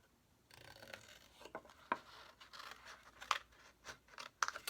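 Scissors snip through 12 x 12 paper in a few uneven cuts, with soft rustling and handling sounds between the sharper snips, close by.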